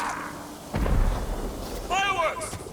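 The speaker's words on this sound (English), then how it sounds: "Fireworks!" Fireworks burst in the samurai video game Ghost of Tsushima, a sudden heavy boom followed by rumbling pops and crackles, with a character's raised voice over the blasts.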